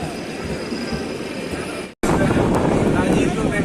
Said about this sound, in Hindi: देखिए ट्रेन क्रॉसिंग हो रही है।